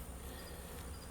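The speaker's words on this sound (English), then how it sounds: "there's a lot of bees around" Honey bees buzz around a hive during robbing, a faint, continuous swarm drone with no voices.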